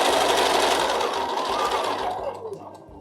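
A sewing machine running fast and steadily, tacking down fabric appliques on a small quilted mug rug, a loud continuous whirring hum that eases off near the end.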